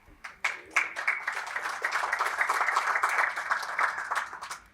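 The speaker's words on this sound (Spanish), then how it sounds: "¿Se puede aplaudir?" Lecture audience at a Chilean university event breaking into applause, a steady wash of many hands clapping that swells quickly and holds at a moderate level for the whole stretch before tapering.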